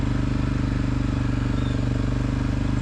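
An ATV engine drones steadily while riding a dirt trail through hilly autumn woods at a Michigan campground, loud and close with a constant throbbing pulse and no pauses.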